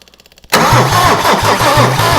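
Mercedes OM diesel engine cranking on a start attempt, a loud starter engaging after a brief quiet lead-in, then rhythmic chugging compression pulses repeating steadily up close.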